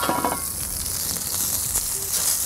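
Vegetables sizzle and crackle loudly on a hot griddle, a steady hiss with occasional scraping as they are stirred.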